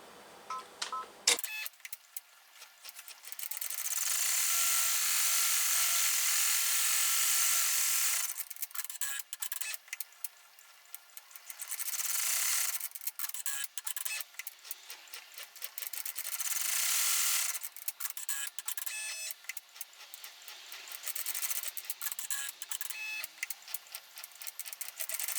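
An embroidery machine stitches an in-the-hoop coin pouch key chain, giving long stretches of rapid, rasping, buzzing needle strokes separated by short pauses and quieter repositioning, heard close with no talk.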